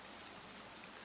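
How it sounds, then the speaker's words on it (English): Fine, soft rain hisses steadily against a train window on an alpine night journey, a faint, even wash of patter with no voices. "The rain returns to the window as a finer hiss"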